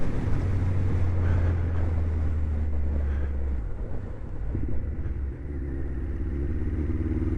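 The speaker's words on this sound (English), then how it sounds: "It's maybe just this bike, but there's something. It really is struggling to get fuel." A Suzuki GSX 1400 motorcycle engine running rough as it struggles for fuel, a loud low droning rumble that drops and shifts partway through, wind buffeting the microphone throughout.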